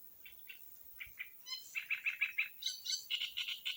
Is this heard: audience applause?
no